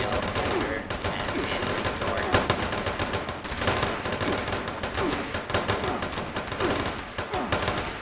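Dense, continuous gunfire in the online shooter Fallout 76, including shotgun blasts, piles up into a loud unbroken barrage with rapid overlapping shots throughout.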